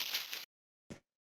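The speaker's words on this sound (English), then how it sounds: "It's just like the sound of me scraping some leaves." A percussion sample of leaves being scraped, heavily treated with effects, gives a dense, hissing burst for almost half a second, then silence, then one shorter scraping swish.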